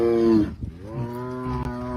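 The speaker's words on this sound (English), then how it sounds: "No, that is a tiger noise" A tiger lets out a loud, drawn-out, cow-like moaning call, a sustained harmonic bellow that dips midway and then carries on, close and alone.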